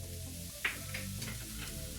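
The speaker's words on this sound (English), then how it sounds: "now I'm going in with some garlic" Chopped garlic dropped into a hot pan for a healthy spaghetti sauce gives a quick, quiet sizzle with a brief sharp crackle, then a soft, steady frying hiss under a faint tonal background.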